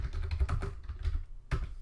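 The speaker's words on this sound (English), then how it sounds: "typing a command" Quick bursts of keystrokes on a computer keyboard sound close and fairly quiet, clustered in an uneven rhythm with a short pause before a final keypress.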